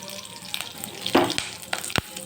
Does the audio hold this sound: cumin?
yes